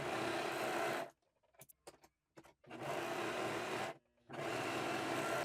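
A sewing machine stitches along the sides of a shorts pocket in loud, steady motor bursts of about a second or more, with short quiet gaps and faint handling clicks between runs.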